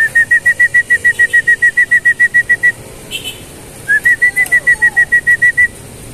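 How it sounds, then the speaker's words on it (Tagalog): Someone whistles to call trained pigeons during trapping practice, two bursts of rapid, evenly spaced high shrill notes separated by a short pause, with faint bird sounds and outdoor background between. "So sinisimulan ko lang pito-pituan sila."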